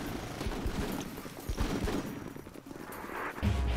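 Scattered gunfire from a Full Spectrum Warrior firefight, an urban squad battle, with irregular bursts and single shots popping at moderate distance under a busy, continuous battle din.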